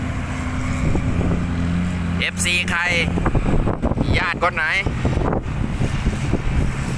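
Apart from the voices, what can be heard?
strong wind blowing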